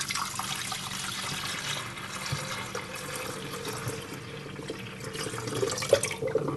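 Water runs steadily into a one cup kettle jug, a soft continuous rushing, splashing stream that stays fairly quiet and even throughout.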